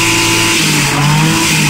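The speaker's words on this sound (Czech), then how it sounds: "V6 2 litrový motor Ford Capri." Ford Capri with a 2-litre V6 engine at a classic car decibel measurement, revving loudly and close by in a sustained, steady roar with a clear low exhaust note.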